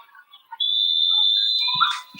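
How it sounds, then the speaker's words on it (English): A referee's whistle blows one long, loud, steady blast at a high school football game as officials stop play for a timeout, with brief crowd noise at the end. "the officials blow the whistle, and they're going to take a timeout"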